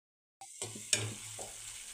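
Ground masala paste for Maharashtrian maswadi frying in oil in a pan, a soft steady sizzle with a few scraping stirs after a brief silent start.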